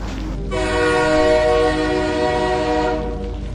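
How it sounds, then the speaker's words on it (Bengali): A train horn blares with a strong harmonic tone for about two and a half seconds over a rumbling train running on the tracks. "ট্রেন চলছে ঝিকঝিক ঝিকঝিক ঝিকঝিক শব্দ করে"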